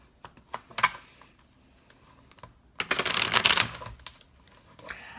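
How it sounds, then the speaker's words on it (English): Tarot cards being shuffled by hand in a quiet room: scattered close riffles and taps, then a dense burst of rapid card flutter before a few soft clicks. "I'm not a very good card shuffler."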